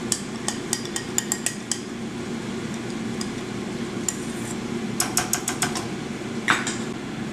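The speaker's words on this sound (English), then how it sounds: "get your sauce in there, get it all combined, and then you want to kind of mix it up again." Soba noodle stir fry tossed with sauce in a pan, light utensil clinks and scrapes coming in quick clusters over a low steady sizzle, close and fairly quiet.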